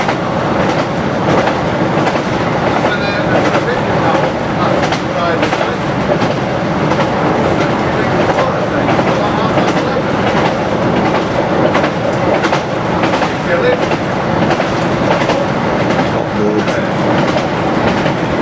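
A Ravenglass and Eskdale Railway train crosses a viaduct at steady speed, its loud, continuous rumble carrying a constant rhythmic clatter of wheels on rails for the whole stretch, heard close and without any voices.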